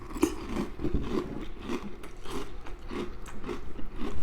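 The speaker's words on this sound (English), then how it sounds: "The texture of this cereal is super nice because it's crunchy" Kellogg's Honey Smacks cereal crunched while chewing, close rhythmic crunches repeating steadily with no talking.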